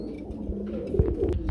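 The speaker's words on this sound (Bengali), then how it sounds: "আমরা এখানে দেখতে পাচ্ছি খুবই সুন্দর বড় সাইজের মধ্যে আরেক জোড়া কবুতর" Pigeons at a market stall where large-size pairs are sold, with soft low cooing and scattered bird calls close by over a busy background murmur.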